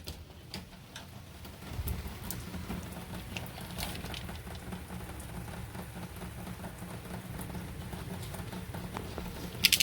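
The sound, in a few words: rain falling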